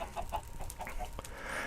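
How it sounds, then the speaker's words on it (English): Chickens cluck in a video game chicken farm, a series of short clucks repeating at a quick, uneven rhythm over a steady background hum. "I went ahead and preloaded it with some chickens so we didn't have to wait on them to grow up."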